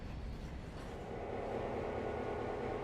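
A 53-car freight train rolling along in the Railroader video game, a steady loud low rumble with wheel noise that swells slightly as it goes on, with no voices.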